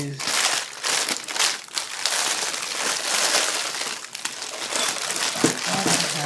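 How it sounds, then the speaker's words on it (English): Thin plastic bags crinkle and rustle continuously as they are pulled open during a costume jewelry unboxing, close and fairly loud, with a few brief sharper crunches and a voice talking faintly underneath. "You know how I despise these little plastic bags."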